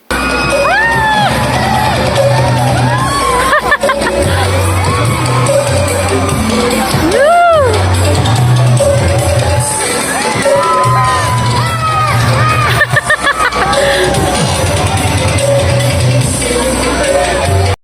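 Crowd of riders shrieking and whooping in waves over a loud mechanical drone, the screams rising and falling repeatedly at moderate distance.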